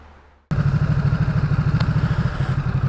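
A 2018 Ducati SuperSport S motorcycle engine fires up abruptly and settles into a loud, close, lumpy idle with a rapid, even pulsing beat.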